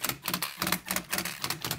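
Case bolts being run in with a power driver on a 300RR engine during bottom-end assembly, a steady rapid close-up rattling whir with no talk.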